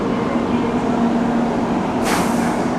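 A Japanese bullet train stands at a Kumamoto station platform with a low steady hum, then a sudden loud hiss of air bursts out near the end, close by.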